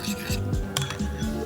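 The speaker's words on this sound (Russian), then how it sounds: "Все это тщательно перемешаем." Metal spoon clinking and scraping against a bowl while a warm Asian-style salad dressing with grainy mustard is mixed, several quick rhythmic strokes up close.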